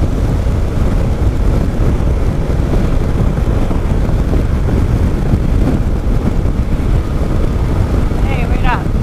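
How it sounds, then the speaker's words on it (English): Heavy wind buffets the microphone while riding in Idaho, giving a loud, constant rumbling roar that lasts the whole stretch with no break. "The wind's throwing me around."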